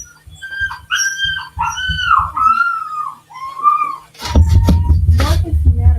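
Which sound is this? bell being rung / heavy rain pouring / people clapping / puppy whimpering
puppy whimpering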